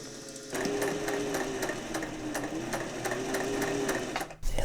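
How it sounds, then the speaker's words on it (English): Sewing machine winding a bobbin with 50 weight Aurifil thread: a steady, close, high motor whine starts after a brief pause and runs evenly, with regular light clicks and a short thump at the end. "I'm going to be using this 50 weight Aurifil in this neutral color, and I need to fill my bobbin first."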